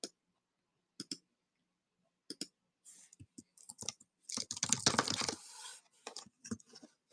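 Sparse, quiet clicks of a computer keyboard come in short bursts separated by silence. A denser clatter swells in the middle, then trails off into a few last taps.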